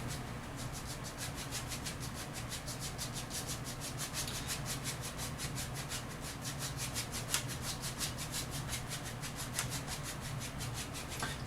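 A 1-inch paint brush loaded with phthalo blue scrubs crisscross strokes over a liquid-white canvas, a steady, close rubbing swish that repeats in fast rhythmic passes with no speech.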